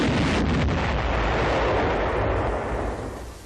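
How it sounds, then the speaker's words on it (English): Several 33-pound T-40 demolition rockets launched from a Sherman tank hit a sloping concrete beach wall with a single heavy, distant blast that rumbles and slowly fades, with no speech. "For a first test, 9 of the 33-pound rockets are fired against the sloping beach wall"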